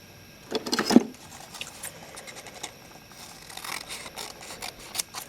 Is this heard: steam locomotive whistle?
no